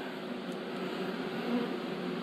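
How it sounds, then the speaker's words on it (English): Dense, continuous buzzing of many bees swarming from an opened beehive fills the clip, steady and close with no voices. "A lot more bees than I thought there was."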